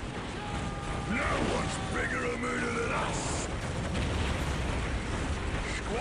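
A looted Leman Russ tank in Dawn of War, with clanking, grinding mechanical rumble, scattered explosions and battle noise in a dense, loud mix throughout, under game sounds and voices.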